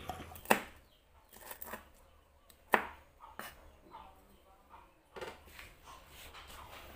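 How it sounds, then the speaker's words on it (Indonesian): Bird's eye chilies sliced into rounds on a cutting board, heard as a few sharp knife chops spread unevenly, with softer taps and handling noises between them, close and fairly quiet. "Cabai rawitnya dipotong bulat, kalau mau dipotong serong juga boleh."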